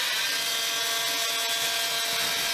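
A bandsaw cuts wood in a boatbuilding shop while sheer clamps are being made, giving a loud, continuous high whine and rasp with no gaps and no talking.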